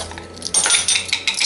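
A metal spoon clinks and scrapes against a small bowl in several light, close taps and rattles over near silence.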